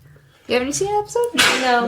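A person sneezes sharply partway through a casual podcast conversation, a brief burst cutting in among close voices talking before and after it.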